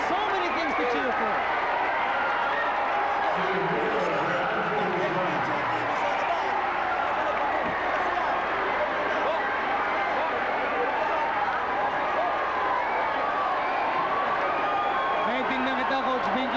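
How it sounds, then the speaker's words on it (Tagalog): A basketball crowd at the Pampanga Convention Center during an MBA game between Pampanga and Iloilo keeps up a steady roar of cheering. A commentator talks over the noise throughout. "give this crowd so many things to cheer for"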